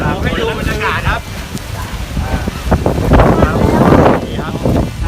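Strong wind and rain at a mountain campsite at Pha Hin Kub in Chanthaburi, heard as loud buffeting gusts and rushing noise against the microphone, with someone speaking over it.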